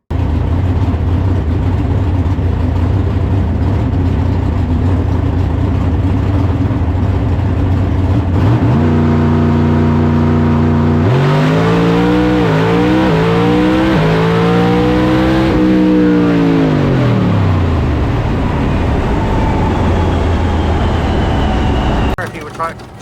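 Ron Rhodes' drag racing car at Rockingham Dragway holds a loud, steady engine idle, then revs up in rising and falling sweeps before dropping back and cutting off near the end.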